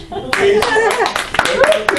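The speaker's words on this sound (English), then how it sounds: "Round of applause." Clapping from a small improv show audience bursts in and keeps going under loud, excited talking and shouting voices.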